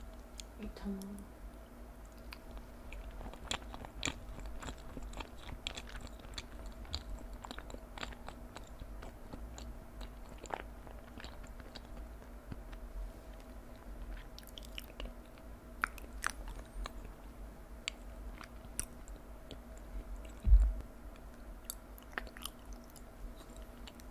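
Chewy mochi rice cake is chewed slowly close to a microphone, with faint soft clicks and sticky mouth sounds spread over a steady low hum, quiet throughout.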